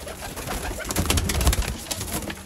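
Pigeons kept by a fancier coo steadily amid a busy wash of rustling and wingbeat-like noise, close and fairly loud, with no voices.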